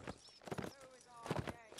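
Galloping hooves of charging cavalry in the Mount and Blade: Warband Pike and Shotte mod, an English Civil War battle, pounding in quick, irregular bursts with battle din, while a voice talks over them.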